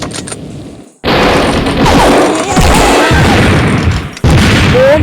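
Bomb explosions from the mobile game Mini Militia, loud, dense booming blasts that merge into a continuous roar for about three seconds, then break briefly before more blasts follow.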